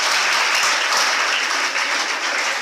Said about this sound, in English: Clap for yourselves again.